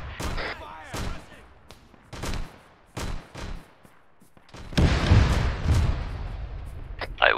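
In the ARMA 3 game, a tank fires repeatedly at a bunker: loud booming shots spaced about a second apart, each with a short echoing tail, followed by a longer rumbling blast near the end.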